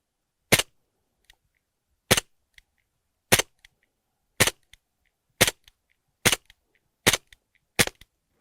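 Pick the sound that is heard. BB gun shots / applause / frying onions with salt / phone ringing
BB gun shots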